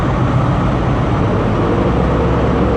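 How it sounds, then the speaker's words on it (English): A Virgin Trains East Coast service pulls out of Darlington station on the East Coast Main Line, giving a steady, loud broadband rumble of engine and rolling wheels with no pauses or voices. "departing now is going to be the late running 10:01 Virgin Trains East Coast service to..."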